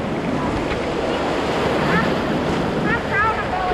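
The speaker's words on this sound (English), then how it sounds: "Oh, a double wave!" Ocean waves break and wash over a sandbar, a constant loud roar of surf mixed with wind buffeting the microphone, with faint voices in the background.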